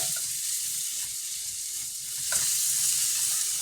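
Crab curry with onions cooking in a pan, a continuous close sizzle and hiss with faint stirring scrapes.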